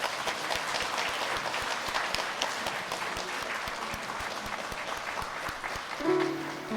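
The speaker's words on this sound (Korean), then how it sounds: "우리 한번 박수 하겠습니다." At a Korean church Sunday service, the congregation gives soft, fairly distant applause, a steady patter of many hands with some rhythmic beats running through it. A brief voice surfaces near the end.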